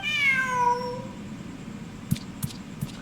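A cat in the Genshin Impact video game gives one clear, drawn-out meow with a falling pitch, followed by a few soft clicking taps in the game's quiet background.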